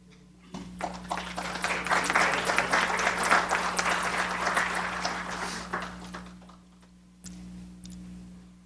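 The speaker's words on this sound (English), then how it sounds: "We applaud each of you and thank you for coming today" An audience of attendees at a Mississippi Board of Trustees of State Institutions of Higher Learning meeting applauds in a sustained, moderately loud burst of clapping that swells, holds, then tapers off, leaving a steady low hum in the room.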